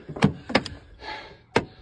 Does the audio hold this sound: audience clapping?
no